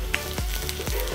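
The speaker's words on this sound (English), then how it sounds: "Now add in the garlic" Garlic hits hot oil in a pan and sizzles steadily for a brief moment, a bright continuous frying hiss with faint stirring scrapes.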